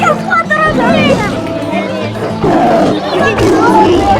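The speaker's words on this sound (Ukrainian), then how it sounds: "Тигр." A tiger at a zoo lets out deep, loud roars and growls close by, while children and adults chatter in a busy crowd around it.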